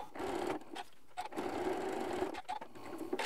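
A sewing machine stitches ribbon through three layers of fabric in short, steady whirring runs with brief pauses between them, close and fairly quiet, with no talk.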